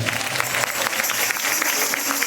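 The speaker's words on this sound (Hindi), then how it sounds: "जोरदार ताली बजाओ उसके लिए" An audience at a church healing and deliverance meeting claps enthusiastically, producing a dense, continuous wash of applause that stays steady and loud throughout.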